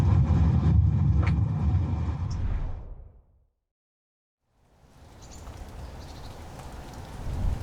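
Steady rain hisses loudly, fades out to a brief silence, then returns softer with faint chirps mixed in.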